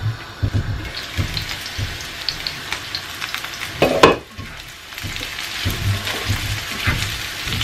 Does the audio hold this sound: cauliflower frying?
yes